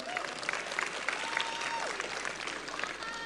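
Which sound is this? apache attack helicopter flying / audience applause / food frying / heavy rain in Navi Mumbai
audience applause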